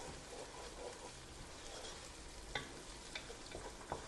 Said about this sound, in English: See, the onions are braising quite nicely in that chili garlic